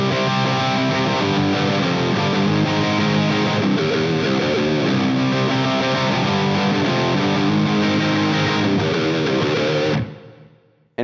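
Loud, saturated electric guitar chords ring out densely for about ten seconds, then cut off abruptly into near silence.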